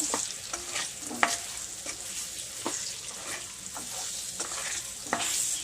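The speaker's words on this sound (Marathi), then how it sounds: "गूळ पण 2 मिनिटं परतून घ्यायचा" Jaggery being sautéed in a pan, with repeated stirring scrapes and a steady soft sizzle close by; no one speaks.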